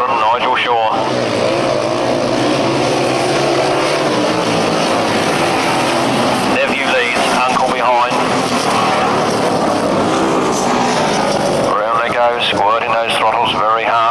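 Grasstrack racing motorcycles at a 1991 Brighton meeting roar loudly as riders open the throttles hard, engines rising and falling continuously under a commentator's voice.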